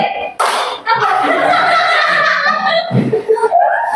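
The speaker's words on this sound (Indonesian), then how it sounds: "Jika saya menyebutkan siang, tepuk 1 kali." A classroom group claps on command during a call-and-response clapping game, with loud bursts of hand claps mixed with laughter and a teacher's voice calling out cues.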